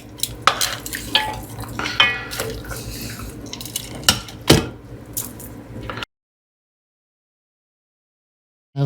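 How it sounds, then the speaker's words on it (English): Beef short ribs stirred in a pan, with scraping, clinking utensil knocks and wet sloshing in irregular bursts, close and fairly loud, then abrupt silence. "Give them a good mix."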